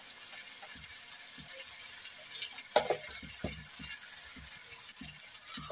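Tomatoes and ground spices with turmeric, garlic, ginger and black pepper fry in a pan, a faint steady sizzle with scattered soft stirring knocks.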